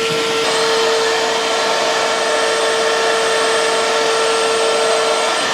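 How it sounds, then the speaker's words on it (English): A vacuum cleaner runs continuously inside a car's interior, a loud, steady whine with a sharp high tone that stays constant and close throughout, with no talking. "Vacuum out the rest of this crap down in here"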